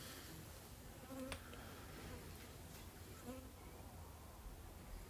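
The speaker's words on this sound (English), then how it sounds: "There's a lot of bees right at the back of this hive." Honey bees buzzing inside a small winter mini nuc hive, a constant low drone with a couple of brief louder passes as individual bees fly close.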